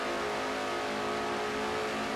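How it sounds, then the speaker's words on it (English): A Ford stock race car engine in a NASCAR-style racing video game, a steady high droning whine held at speed through the gears, loud and continuous. "she's in 3rd gear now, and then slams it down in the 4th gear on her number 9 Canon-Chan TV Ford"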